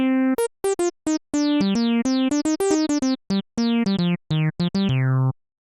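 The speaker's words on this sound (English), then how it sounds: "It's quite a distinct fake resonance, almost like it's self-oscillating." A quick run of short Synclavier V synthesizer notes, each with a bright, whistling resonant peak sweeping through its harmonics, ending on one longer sustained tone.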